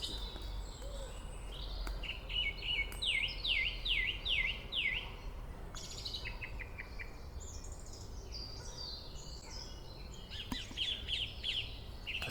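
Varied bird song at dawn with repeated trilling phrases and chirps, bright and fairly close, over a steady low background hum.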